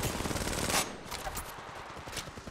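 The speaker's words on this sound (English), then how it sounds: "Getting shot at." Rapid automatic gunfire in the Apex Legends video game, a dense burst of shots fading into scattered sporadic fire, loud and close with game sounds around it.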